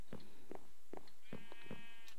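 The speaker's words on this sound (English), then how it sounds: "let's head over to the sheep farm." Sheep on a farm in an 8-bit style video game bleat in a run of short, evenly spaced calls, about seven in two seconds, each clear and fairly quiet against a faint background.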